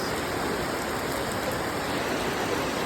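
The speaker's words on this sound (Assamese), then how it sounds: "হেভি বৃষ্টিপাত হৈ গ'ল 3:30 ফুল বৰষুণ" Heavy afternoon rain pours down steadily, a dense, continuous hiss of drops drumming on surfaces with no pauses, during a power cut.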